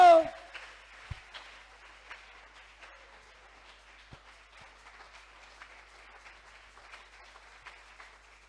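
A church congregation at a Sunday service applauds after a loud call from the preacher, the clapping scattered and fairly faint, tapering off over several seconds.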